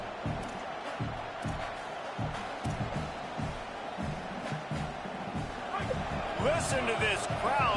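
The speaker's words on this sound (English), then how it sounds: "Listen to this crowd just shaking the girders of this place, trying to help their defense." Stadium crowd in a college football video game roars and stomps in rhythmic surges, a loud, dense wall of cheering with thumping beats under it and a commentator talking over the top.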